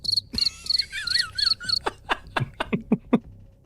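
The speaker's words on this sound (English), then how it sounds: "crickets." Cricket-like chirps sound in quick repeated trills, close and fairly clear, then give way to a run of sharp clicks and pops, with no talking.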